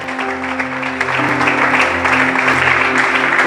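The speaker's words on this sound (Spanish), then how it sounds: "Dele fuertes palmas al Señor, por favor." A church congregation at a Sunday service claps loudly and continuously, a dense wash of applause that swells slightly partway through, with no voices over it.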